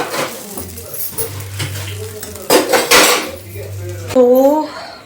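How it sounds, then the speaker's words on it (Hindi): Utensils and dishes are pulled out in a home kitchen, with close clinks, scrapes and metallic clatters of pots and cutlery in irregular bursts, and a voice briefly speaking near the end. "और ये ज्योति बर्तन निकाल रही है।"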